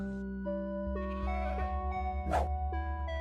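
A Minecraft goat bleats once in a short, nasal cry over a steady bed of tonal background music.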